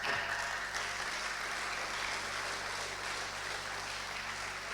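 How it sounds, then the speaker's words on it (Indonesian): A church congregation applauding during a sermon, a steady, fairly faint wash of clapping that holds evenly throughout with no voices over it. "Tepuk tangannya kok begitu ya."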